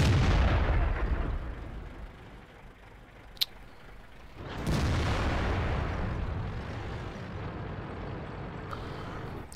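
Heavy tank cannon shots in World of Tanks, with a deep booming blast at the start and a second loud report midway, each followed by a long rumbling decay.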